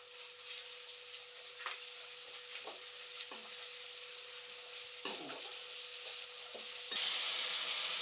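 Curry leaves dropped into hot oil in a home kitchen while cooking chicken, crab and fish gravy, a soft steady sizzle with a few faint clicks and scrapes, growing louder near the end.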